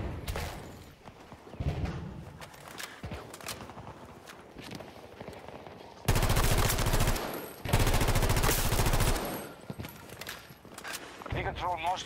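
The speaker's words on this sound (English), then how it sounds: "I can hear a gunshot." Bursts of rapid gunfire from Battlefield 2042 crackle loudly, with heavy volleys in the middle, mixed with game sound effects and some talking.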